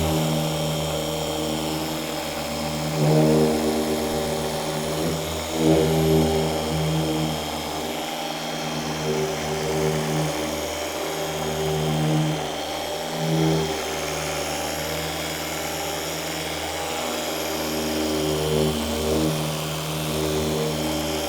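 A Meguiar's polishing machine with a soft microfiber pad running steadily on a car panel, a continuous droning hum with slight speed wobbles and load changes throughout.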